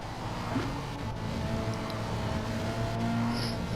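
Race car at Spa lifting off the throttle and coasting, engine note dropped to a steady low drone with a distant whoosh, fairly faint and without talk.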